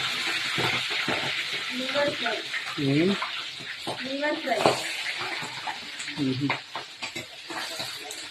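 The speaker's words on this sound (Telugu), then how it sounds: "ఈరోజు అయితే లివర్ ఫ్రై చేస్తున్నా" Liver frying in a pan gives a bubbling sizzle with some stirring scrapes, running under a voice that talks through most of the stretch.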